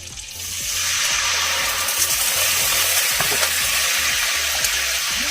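Wine poured into a hot pan already holding butter sets off a loud, steady sizzle that swells within the first second and holds, with faint stirring clatter underneath.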